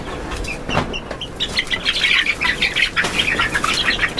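A young Leghorn hen in a poultry house flaps her wings in quick rustling bursts, close by, with short squawks and chirps from other young birds around her.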